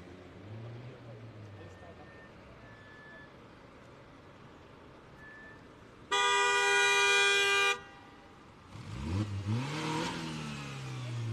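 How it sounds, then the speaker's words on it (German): A car or truck horn blares in one long, loud, sustained honk lasting over a second on a street in Göttingen during a Letzte Generation protest, followed by an engine revving nearby, with voices talking around it. "wenn dieser Autofahrer oder LKW-Fahrer nochmal so hupt"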